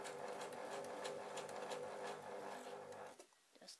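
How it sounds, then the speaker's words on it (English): A sewing machine stitches a pleat in a petticoat, running as a steady, fast mechanical whir with rapid needle ticking for about three seconds, then stopping with a few faint clicks. "we're going to sew along till we just about catch the pleat with the sewing machine"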